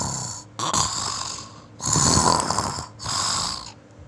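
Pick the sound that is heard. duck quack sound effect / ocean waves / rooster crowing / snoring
snoring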